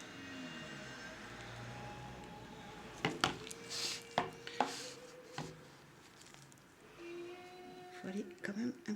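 Soap batter is spooned into a mould, giving several clinking knocks and scrapes of a spoon against the container beneath a steady low room hum.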